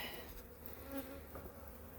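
Honeybees swarm around an opened beehive, a dense, steady buzz filling the air up close with no talking.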